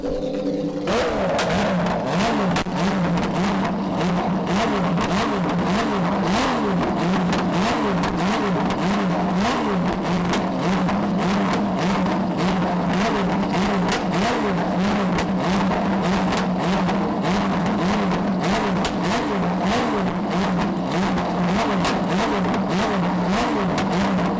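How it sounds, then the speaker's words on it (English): Loud vintage race car engines rev and idle continuously in a racing paddock, a rough, throbbing roar with pulsing rhythm that holds steady for the whole stretch, no voices. "Right now they got some vintage racing going on. It's pretty loud and idle."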